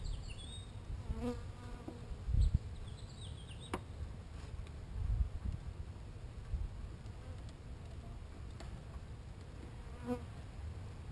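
Honey bees from a 3 lb package swarm and buzz steadily while being hived, a continuous near drone with scattered louder passes close by and faint clinks of handling.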